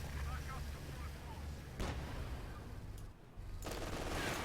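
Gunfire on a Sherman tank during a Company of Heroes 2 battle, with a dense rumble of distant shots and a few sharper bursts, faint and continuous under the game's ambient noise.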